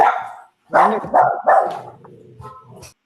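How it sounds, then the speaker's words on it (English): Dog barking close by in a rapid series of three or four loud barks, trailing into softer vocal grumbles, with no speech over it. "And then the dog wanted to say something too."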